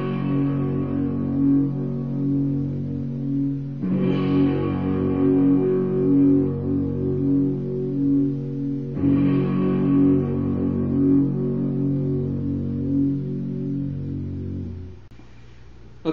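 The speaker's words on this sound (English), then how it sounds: "This is a little bit of a trickier chord, but it's relatively easy on electric guitar." Chords strummed on an electric guitar with a slightly overdriven, effects-coloured tone, struck three times at roughly five-second intervals and left ringing in between, with no voices.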